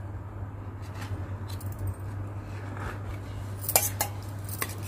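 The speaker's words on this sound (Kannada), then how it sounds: "ಅದೇ ರೀತಿ ಈಗ ನಾನು ಇಡ್ಲಿನ ತೆಗಿತಾ ಇದ್ದೀನಿ" A spoon scrapes soft idlis free from a steel idli plate in a home kitchen, giving light clinks and scrapes, with a few sharper metallic taps near the end over a steady low hum.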